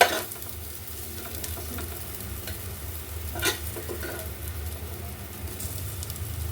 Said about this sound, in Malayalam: സവാള നല്ലോണം മുരിഞ്ഞ് വന്നിട്ടുണ്ട് കേട്ടോ